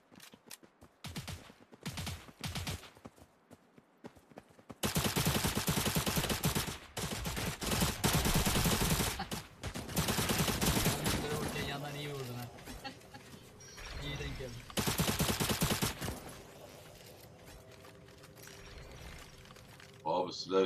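Video game gunfire comes in dense, loud bursts of rapid shots separated by quieter gaps, with someone speaking excitedly in between.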